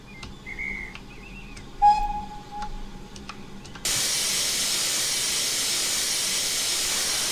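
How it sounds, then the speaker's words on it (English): Cylinder cocks on a Standard 4MT steam tank locomotive burst into a loud, steady steam hiss midway through, after a quieter stretch of cab noise with a brief whistle-like tone. "If I turn the cylinder cocks off, with the steam leaking out from in here."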